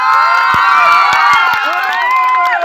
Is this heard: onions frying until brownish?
no